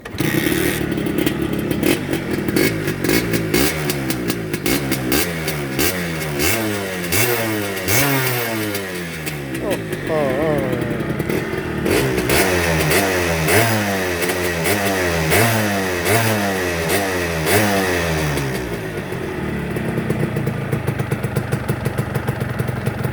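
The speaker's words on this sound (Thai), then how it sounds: "เดี๋ยวเบิ้ลเครื่องหน่อยครับ เครื่องเย็น สตาร์ทง่าย" A restored Suzuki Akira motorcycle with a cold engine is revved hard and close up, with repeated rising and falling throttle blips and mechanical clatter over a steady idle, and no voices.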